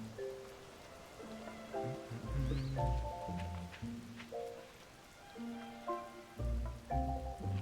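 Rain falling in a Zelda: Tears of the Kingdom village, a soft steady patter heard beneath a game's melodic chiming music that plays throughout.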